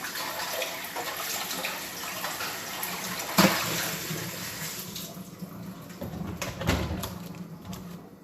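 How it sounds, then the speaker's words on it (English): Loaf pan rinsed under a running kitchen tap, a steady hiss of flowing water with clinks and splashes as the pan is moved, close and fairly quiet. "rinse my pan out first real quick"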